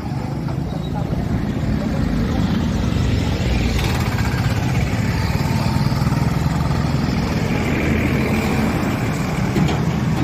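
Vehicles move across a potholed flyover in Gangakhed, a continuous rumble of engines and tyres at steady loudness, with someone talking over the traffic.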